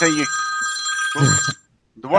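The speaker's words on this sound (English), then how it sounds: "very old-timey phone you have there, Neil" An old-fashioned telephone bell rings loudly in a sustained burst, stops briefly and starts again, with people talking over it.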